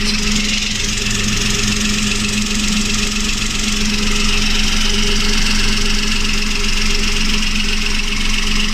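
A car engine idles right after its drive belt has been replaced, giving a loud, close, steady running hum with a knocking, slightly uneven sputter throughout.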